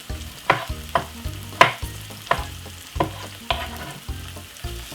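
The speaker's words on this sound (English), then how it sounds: "It's easy to be fried also." Chopped tomato and vegetables sizzle in a hot pan, steady frying hiss broken by repeated sharp stirring knocks about every half second, close and moderately loud, with no voices.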